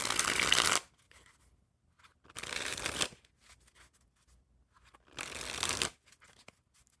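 Bicycle playing cards with blue Victors backs, a thin deck, riffle and fan in three loud, close bursts of rapid flicking, each about a second long, with quiet pauses in between.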